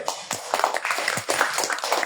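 An audience at a DXN day-long training event in Jashore claps together, a dense, steady patter of many hands that carries on throughout, close and fairly loud.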